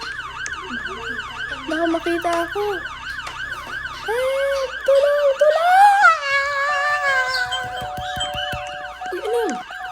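Police car siren in the Roblox game Brookhaven, a loud wailing tone sweeping up and down repeatedly for several seconds, then fading under frantic shouted voices and other game noises.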